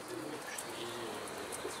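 Pigeons coo softly at a rooftop loft in Turkey where birds are kept and coaxed in with feed, the low calls sitting in a busy wash of background noise.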